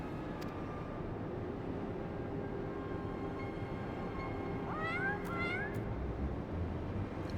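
A cat in the Final Fantasy XIV game meows in a short run of rising, bending cries near the end, set over a steady low rumbling background drone.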